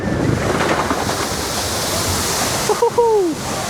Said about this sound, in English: I'm about to splash us.